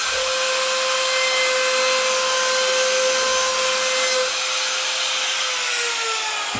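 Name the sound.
laminate trimmer router cutting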